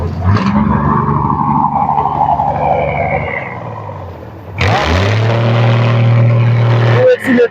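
A car engine revs hard on the accelerator during a street operation in Pirwadhai, Rawalpindi, rising from a low idle to a loud, sustained roar close by, with people talking over it.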